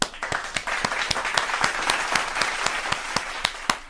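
Clapping with distinct, fairly regular sharp claps over a softer bed of applause, as if from a small group nearby.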